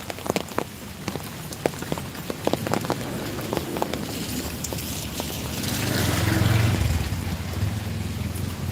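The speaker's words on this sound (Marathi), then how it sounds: "पाऊस चालू आहे" Steady rain falls during a morning power cut, a continuous patter on surfaces with scattered nearer drops and a swell in intensity toward the end, no talk.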